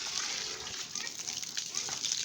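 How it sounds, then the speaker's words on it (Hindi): Water pours steadily onto a mango plant outdoors in a lawn, making a continuous close splashing and sloshing hiss that fills the whole moment. "ये मैं अपने मैंगो को पानी डाल रही हूँ"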